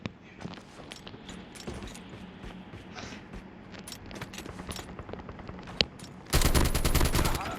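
Rapid bursts of gunfire in the game Call of Duty: Mobile crackle throughout, ending in a loud, sustained stretch of automatic fire.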